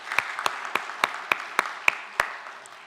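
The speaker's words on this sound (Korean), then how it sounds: "우리 박수로 환영하겠습니다." A small church congregation claps in welcome at a Sunday morning service, a thin, sparse run of distinct, evenly spaced claps heard close with no talk.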